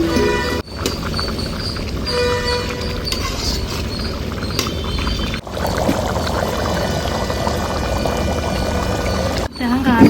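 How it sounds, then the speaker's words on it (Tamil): Ground coconut paste pours into a cooking pot as a steady wet splashing and pattering that lasts throughout, mixed with kitchen background noise. "தேங்காய் அரைச்சோம்ல, அதை வந்து ஊற்ற போகிறோம்"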